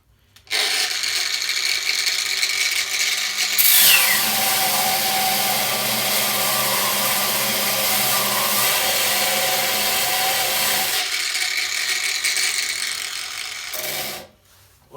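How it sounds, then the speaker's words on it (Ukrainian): A Metabo W18LBL9-125 cordless angle grinder fitted with a cleaning disc grinds weld seams and bare metal, a loud, steady, harsh whine and rasp running for about thirteen seconds before spinning down. "Будемо зачищати зварювальні шви і просто так метал."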